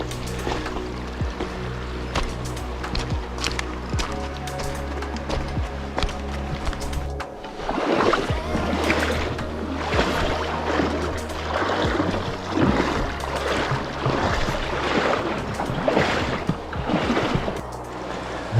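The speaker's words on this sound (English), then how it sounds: "There's the river." River water streaming steadily past the banks outdoors, a continuous broadband rush with a lower rumble in the first half, then a brighter, busier trickle and splash texture, no voices.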